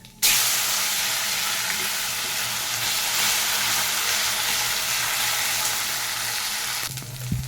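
Nigella seeds and kharkol leaves dropped into hot oil for tempering, giving an abrupt loud sizzle that holds steady for several seconds before cutting off, close up with no talking.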